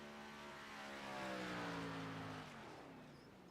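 A stock race car at Darlington Raceway drones past, its engine tone sliding downward as the driver lifts off the throttle, swelling to a peak mid-pass and then fading, heard faintly from a distance.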